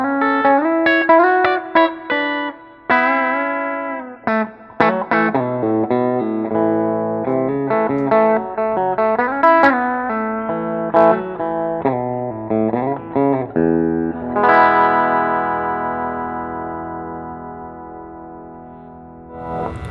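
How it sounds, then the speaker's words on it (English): Fender Deluxe Nashville Telecaster played through its Tex-Mex bridge pickup, a bright, slightly twangy electric guitar picking a fast melodic run with chords, ringing out under light effects and reverb, alone and close. "it's your standard Tele bridge pickup where you can hear a little bit of quack"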